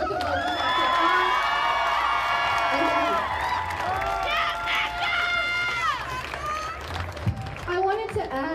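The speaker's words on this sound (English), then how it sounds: "Make a round of applause for ourselves." A crowd of high school students at a Black Lives Matter protest in Denver cheers, shouts and claps in a sustained, loud burst, with voices ringing out over the noise.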